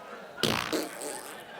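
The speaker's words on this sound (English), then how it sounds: "you can't have a fart soundboard without your classic old wet fart" A wet fart sound effect from a fart soundboard bursts out after a brief quiet, a loud sputtering, bubbly blast with a second squelchy pulse, trailing off into faint noise.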